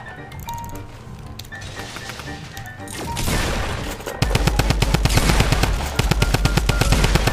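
Rapid automatic gunfire in a video game from Bulgarian streamers, loud and close, starting as a dense roar and settling into a fast, steady rattle of repeated shots that runs to the end.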